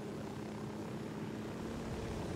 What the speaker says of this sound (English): And there's a chopper up here.